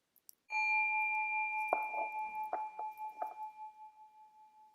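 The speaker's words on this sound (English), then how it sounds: "I'm going to give a sound of a bell to start" A meditation bell is struck once at the start of a session and rings in a long, clear, slowly fading tone. A few softer knocks sound during the ring in an otherwise quiet room.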